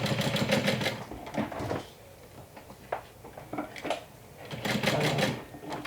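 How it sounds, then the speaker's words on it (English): A sewing machine stitches around a convertible handbag-backpack with one-inch hardware, running in close, rhythmic bursts of rapid mechanical clatter separated by brief pauses. "So I'm just sewing all around"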